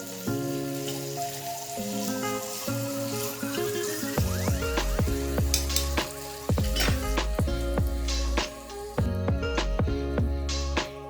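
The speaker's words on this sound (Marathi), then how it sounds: "बरी भाजून घेवची." Asafoetida and curry leaves fry in a hot pan, giving a steady close sizzle that runs throughout, with music playing over it.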